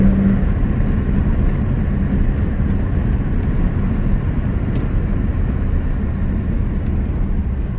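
A BMW 320 E21 engine and gearbox droning steadily while driving, a constant loud low rumble with road noise throughout and no pauses.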